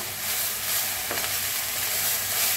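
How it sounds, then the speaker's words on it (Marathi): Moth bean sprouts (matki) being stirred and roasted in oil in a pan, a steady close sizzle with soft scraping from the mixing, no voices. "असं मिक्स करून भाजून घ्यायचं।"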